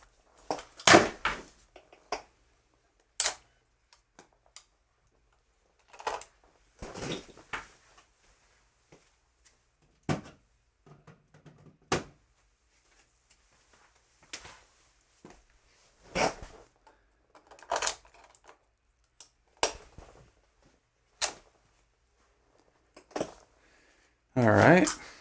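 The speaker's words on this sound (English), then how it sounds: "that was the sound of me fixing the battery on my camera" Scattered clicks, rustles and small plastic snaps come in irregular bursts with quiet gaps, from fixing the battery on a camera up close.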